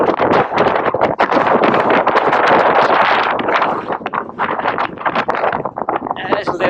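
Strong gusts roar and buffet against an outdoor microphone on an exposed launch slope where an X-Models Old Timer Blade glider is flown, a loud continuous rushing with surging peaks and no talk.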